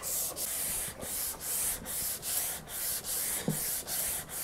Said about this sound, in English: I'm gonna go over this fretboard with this 180 on this hard block right here.